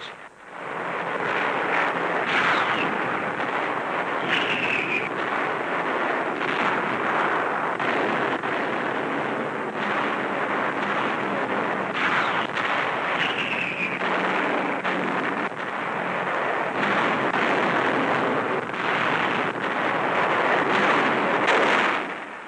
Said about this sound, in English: The heaviest Allied barrage of the war precedes a dawn attack.